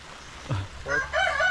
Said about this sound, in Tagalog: Ang daming manok dyan.